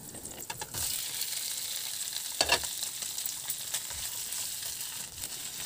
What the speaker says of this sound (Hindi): आलूओं को भी हम अच्छे से भून लेंगे